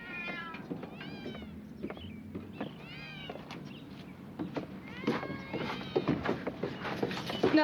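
Several cats meow indoors in a house, their overlapping cries rising and falling over a few seconds amid clutter and faint background noise, growing busier and louder toward the end.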